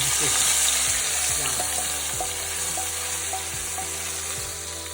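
Mauritian cari bari fritters bubble and crackle in hot oil, a close, continuous frying hiss with repeated light clinks of a spoon or utensil against the pan.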